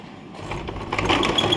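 A sewing machine stitches fabric for a blouse latkan, giving a steady mechanical whirring and clatter that grows slightly louder toward the end of the short burst.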